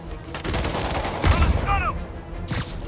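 Gunfire rattles in a dense burst during combat in the Spider-Man Remastered video game, loud and close, with a brief whizzing sweep mid-burst and a game voice line partly under it.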